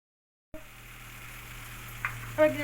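Ginger, green chili and tomato paste sizzle in a pan as a soft, steady hiss that starts abruptly after a brief silence. A light clink and scrape of stirring come near the end.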